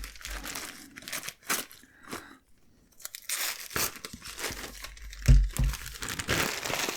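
Paper packaging from an ink advent calendar crinkles and tears in several bursts, close and fairly soft, with pauses between handlings and a brief low bump near the end.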